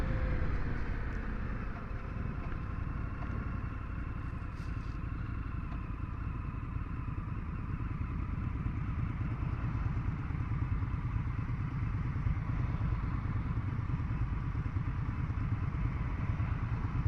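An Indian FTR1200 S motorcycle engine hums steadily while riding on roads around El Cajon, California, a constant low drone with light clatter that stays fairly quiet and even throughout, with no voices.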